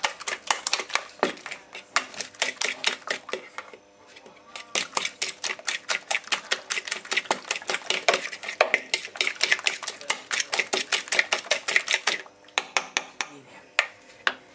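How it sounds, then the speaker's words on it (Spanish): Eggs being beaten in a bowl with a fork for milanesa, a fast, steady run of sharp clinking strikes against the bowl that continues for most of the time, briefly slowing near the middle and toward the end. "ahora vamos, lo batimos"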